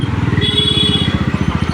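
An auto-rickshaw engine putters to life and keeps running close by, with a steady, fast, throbbing rhythm of low thumps throughout.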